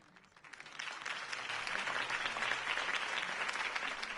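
A crowd's applause swells from quiet to a full, steady roar of clapping that holds for a few seconds.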